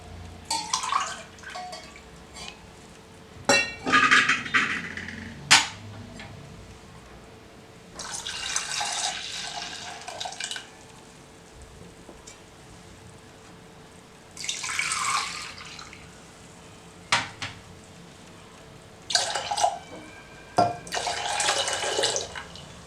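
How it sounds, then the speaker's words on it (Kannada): Water poured into ground sesame mixture in a kitchen vessel for sesame juice, several separate bursts of splashing pouring with quiet pauses and occasional clinks between them. "ಈಗ 2 ಗ್ಲಾಸ್ ನೀರು ಸೇರಿಸ್ಕೊಳ್ತಿದ್ದೇನೆ."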